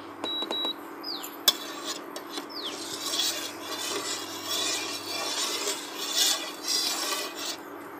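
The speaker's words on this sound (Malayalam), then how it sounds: "പാല് ഇങ്ങനെ ഇളക്കിക്കൊണ്ടിരിക്കണം ഇല്ലെങ്കിൽ ഇതിൻ്റെ അടിയിൽ പിടിക്കുന്നതാണ്" Milk being stirred in a pan on a stovetop while heating for homemade strawberry ice cream, a steady soft scraping and rubbing with occasional light clinks of the spoon against the pan.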